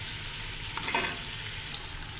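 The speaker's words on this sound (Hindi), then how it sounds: "अब मैं इसको ना अच्छी तरह इसी मसाले के अंदर ना अच्छी तरह भून लूँगी" Beef trotters frying in an onion masala in a pan, a steady soft sizzle with a brief scrape of stirring near the middle, close and fairly quiet, no voices.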